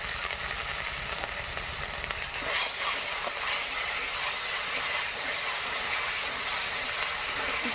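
Cumin paste, chili powder and ginger paste sizzle steadily in hot oil as a Bengali curry base is fried, a continuous close hiss with no talking.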